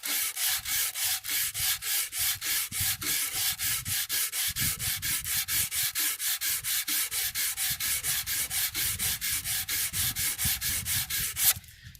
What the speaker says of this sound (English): I want to sand the whole surface.